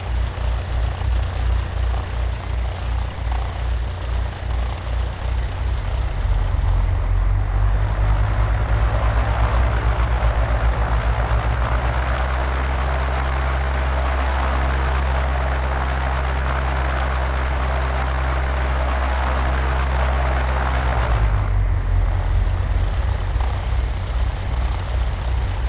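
A light aircraft's engine drones steadily in flight on a flapless glide approach at about 70 knots, a loud continuous low hum with a shift in pitch partway through and no talk.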